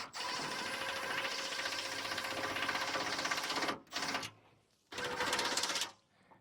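A power tool with an 8mm socket runs up a nylock nut while fitting a whale tail lock, giving a loud, continuous mechanical whir with short bursts near the end and no talking.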